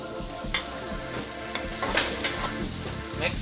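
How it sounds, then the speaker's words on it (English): Onions and Szechuan pepper sizzle and fry steadily in a hot wok, with occasional clanks and scrapes of stirring over the continuous crackle. "I have onions and Szechuan pepper frying on my wok."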